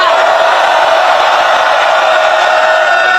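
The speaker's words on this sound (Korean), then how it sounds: "정청래 의원님께 다시 한번 큰 박수와 함성 부탁드리겠습니다" A large crowd at an outdoor political rally applauds and cheers, a loud, continuous wall of clapping and shouting that holds steady throughout.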